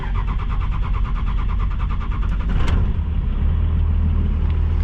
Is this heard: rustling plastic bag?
no